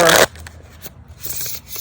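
Tarot cards being shuffled in a short riffled burst at the very start, followed by quiet rustling and faint handling of the deck up close.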